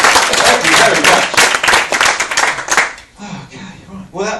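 A comedy-club audience claps and cheers for a stand-up comedian in a loud burst of applause that fades out after about three seconds, then someone speaks.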